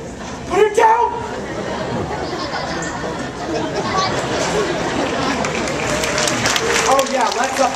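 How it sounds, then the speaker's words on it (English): An audience applauds at a bird show, clapping and cheering blending into steady crowd chatter throughout, with a brief louder burst near the start; voices murmur and talk underneath. "Oh yeah, let's applaud that."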